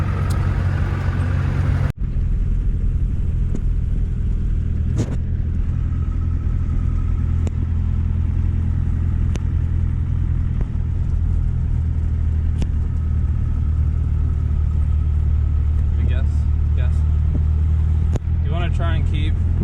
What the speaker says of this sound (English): the truck's also really loud